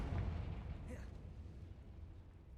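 A Confringo fire spell explodes in Hogwarts Legacy with a loud, low booming burst at the start that settles into a rumbling, decaying roar.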